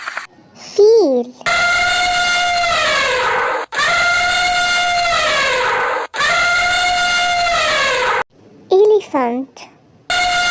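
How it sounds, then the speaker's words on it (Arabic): An elephant trumpets in three long, loud, sustained blasts separated by short gaps, with brief bursts of a voice just before and after. "فيل."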